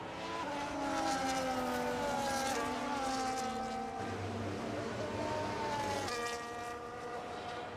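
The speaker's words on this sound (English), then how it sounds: "Final car is coming up to the grid here." Several race car engines in a Can-Am racing video game at Hungary rumble and whine at steady revs while rolling onto the grid, droning continuously with shifting pitch and no voices.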